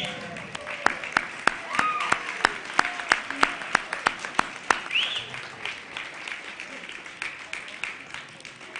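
Banquet guests at a 50-year club dinner applaud the class of 1960, a crowd clapping under a host's voice, with sharp regular claps standing out near the microphone.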